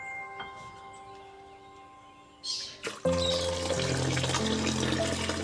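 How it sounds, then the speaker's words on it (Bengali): Tap water pours into a sink while drumstick flowers are washed in a kitchen, a faint trickle giving way after about three seconds to a loud, steady splashing flow with a low tonal hum. "উনি অল্প অল্প করে ধুয়ে তুলছি আর আমি ফুলগুলো জলে ফেলছি"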